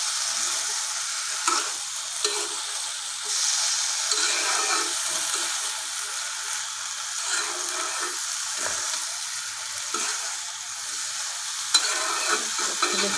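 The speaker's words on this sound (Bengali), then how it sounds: "দেখতে পাচ্ছেন আমার এটা কষানো হয়ে যাচ্ছে।" Rohu fish and potato curry stir-fry in a pan with a constant close sizzle and scattered scraping stirs throughout. No voices are heard.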